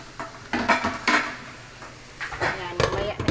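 A lid goes onto a cooking pan of minced beef with green beans, making a few close metallic clanks and clatters, with a person talking in between.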